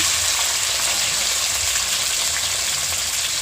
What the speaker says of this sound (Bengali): টমেটো দিয়ে একটু ভেজে নিচ্ছে